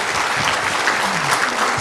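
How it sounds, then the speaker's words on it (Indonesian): Audience applause in an Indonesian hall, a dense, steady wash of many hands clapping close and loud, with no voices over it. "Tepuk tangan untuk CHR."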